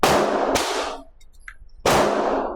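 A Rock Island Armory Derya DY9 fires three loud, close shots: a quick double blast, then a pause with faint clinks before a third blast rings out.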